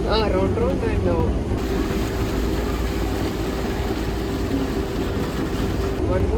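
A water taxi motors along a Venice canal, its engine a steady low rumble under gusty wind noise and the wash of water, with a voice briefly heard at the start.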